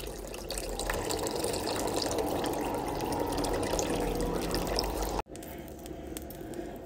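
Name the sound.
cold tap water running into couscous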